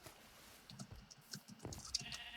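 A sheep bleats a few times at moderate distance in Minecraft, over a low, busy game background with scattered clicks and rustles.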